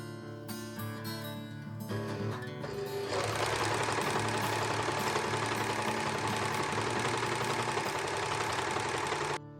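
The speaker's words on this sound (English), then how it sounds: "I overlock the bodice together at the side seams and shoulders where I've just pinned" An overlocker sews the side seams and shoulders of a fabric bodice, starting after a few seconds of quieter handling, then running as a loud, steady, fast mechanical whir to the end.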